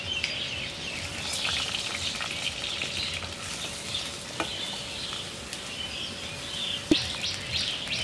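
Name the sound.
onion, ginger and garlic paste frying in a pan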